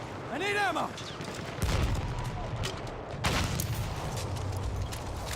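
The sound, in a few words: gunfire in video game Battlefield 1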